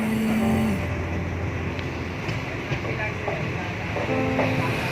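A train crossing the Farakka Bridge, with a loud, steady rolling rumble and rattle throughout. A sustained tone sounds at the start and again near the end.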